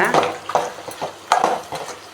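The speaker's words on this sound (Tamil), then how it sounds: "இதை நல்லா கலந்து விடுங்க." A spoon scrapes and stirs chicken masala in a pan in several distinct strokes, with a light sizzle underneath.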